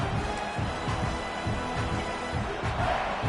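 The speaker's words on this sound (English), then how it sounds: "This crowd trying to make life miserable for this offense." A football stadium crowd during a game, a dense, steady roar that stays loud throughout with no clear single voice.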